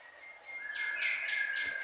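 Birds call outdoors, a steady high tonal call with harsher bursts layered on top, moderately loud and close with no talking; crows are among them.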